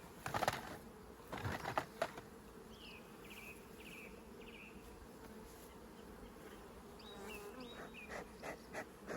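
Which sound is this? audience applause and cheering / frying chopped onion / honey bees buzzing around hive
honey bees buzzing around hive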